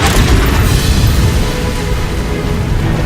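A Confringo blasting spell explodes in a video game, a loud, close, low booming blast that rumbles and fades over about three seconds, with no voices.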